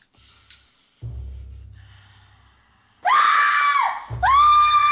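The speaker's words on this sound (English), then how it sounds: "Take that screaming woman out of here" A woman gives two loud, shrill screams in the 2020 horror film The Day of the Living Dead. Before them, quiet rustling and a low rumble rise and fade, and the two harsh screams come close together near the end.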